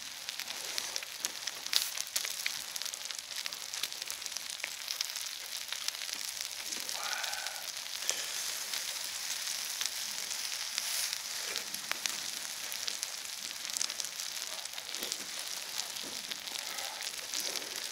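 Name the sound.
pork belly grilling on a stone plate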